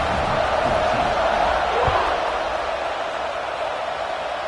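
A stadium crowd roars and cheers ahead of an American football kickoff, a steady broad wash of massed voices that holds at a constant level, with a commentator talking over it.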